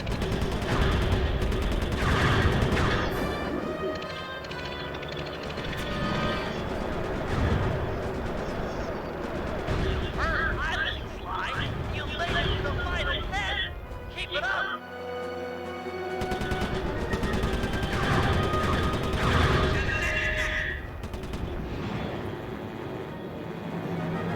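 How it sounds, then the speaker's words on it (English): Gunfire with flaming bullets in the Sly 3: Honor Among Thieves video game, dense continuous bursts of shots over game music and effects throughout. "Flaming bullets."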